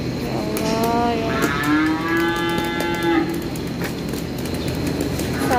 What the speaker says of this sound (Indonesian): Sakit ini sapi.